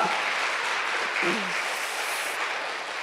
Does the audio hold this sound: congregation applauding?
yes